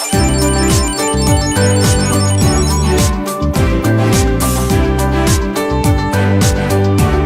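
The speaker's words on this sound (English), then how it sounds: "Ring your keys wherever they're hiding." A Chipolo Plus item tracker rings with a loud, continuous electronic melody of repeating tonal notes, steady and close, with no talking.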